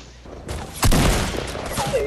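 Gunfire in Fortnite at Tilted Towers, a loud close volley of shots with a sharp burst near the start, then scattered further shots trailing off.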